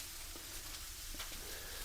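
Supper frying in a pan, a soft continuous sizzle and crackle with faint pops, low and steady in the background.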